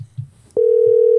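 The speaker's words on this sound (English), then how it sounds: "We're calling a guest. I hear ringing." A telephone call tone starts as one steady, loud, unbroken note after a brief click, preceded by faint low murmurs.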